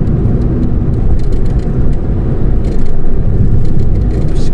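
Car driving along a road in Brunei Darussalam near the airport, a steady broadband road and engine rumble heard from inside, continuous and fairly loud with no talk.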